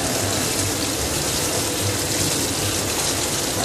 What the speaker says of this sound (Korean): 이렇게 데쳐놓은 거를 이렇게 한번 씻겠습니다